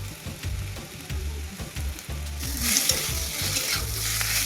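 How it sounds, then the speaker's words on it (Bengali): Onions fry in a pan with a steady hiss that turns to a brighter, louder sizzle partway through, over a low rhythmic thumping of stirring. "পেঁয়াজটা এখনো 5 মিনিটের মতন ভাজতে হবে।"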